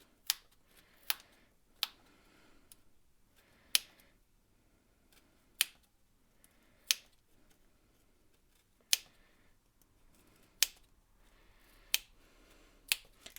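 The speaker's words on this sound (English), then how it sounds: "I'm going to put my scissors through the centre of the card and I'm going to start snipping away at the wool" Scissors snip through wool wrapped on a cardboard pom pom maker: about eleven sharp, isolated cuts spaced irregularly, close and distinct against near silence.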